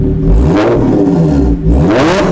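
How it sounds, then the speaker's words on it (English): An Audi S4/S5 fitted with an AWE exhaust revs loudly and up close in two sharp bursts, the engine note rising and falling with a brief dip between them. "Gotta get one last little rev for the boys"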